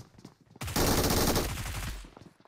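An MG3 machine gun in the PUBG Mobile battle royale game fires a rapid sustained burst of about a second and a half, close and dense, ending abruptly.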